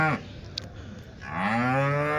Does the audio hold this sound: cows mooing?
yes